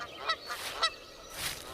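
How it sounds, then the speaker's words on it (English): Geese honk a few times in quick, separate calls, fairly close and clear, with a longer fading honk at the end over light background noise. "I think of the calls of the geese as they fly south for the year"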